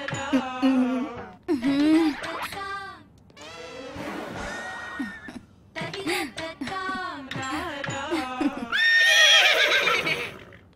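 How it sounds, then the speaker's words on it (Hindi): An Arabian mare neighs repeatedly, with a series of loud, close whinnies separated by short gaps and ending in a longer, harsher call. "ये मामूली घोड़ी नहीं है, ये अरेबियन घोड़ी लगती है।"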